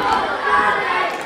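Crowd noise at a wrestling event in Hoddesdon, a steady wash of chatter and murmuring voices from the audience, fairly loud and continuous throughout.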